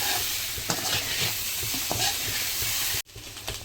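Taro root (cheppakilangu) roast being stir-fried in a pan: steady close sizzle with scraping stir strokes, a brief cut near the end before the frying resumes.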